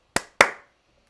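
Two crisp, dry clap samples played back in Ableton Live during music production, the second slightly louder with a short decaying tail, both isolated with silence between and no talk.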